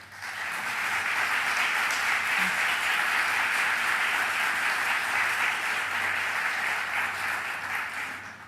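Steady, dense applause from an audience in a hall as state legislators stand to be recognized, rising quickly, holding level for several seconds, then fading, with no talking over it.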